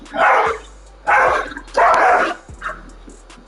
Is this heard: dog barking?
yes